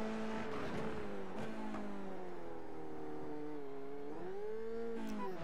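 An F3 race car slides sideways on the circuit, its engine note loud and steady, pitch wavering and dipping as it drifts across the track and then recovers.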